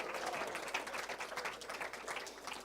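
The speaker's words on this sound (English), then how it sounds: "Please give him a big round of applause." Audience at a sacred music festival opening applauds a drummer, a continuous wash of clapping heard from some distance, fairly soft and even for the whole stretch.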